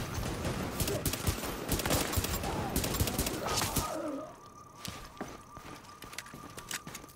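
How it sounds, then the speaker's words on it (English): Pistol gunfire in the video game The Division, a rapid flurry of quiet shots in the first half that thins to a few scattered pops over a faint background. "Snipe you with my pistol"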